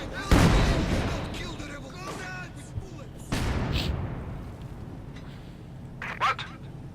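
Rapid gunfire volleys and heavy booms from the real-time strategy game Company of Heroes 2 hit in bursts, the loudest near the start and the middle, while a commentator keeps talking over the battle.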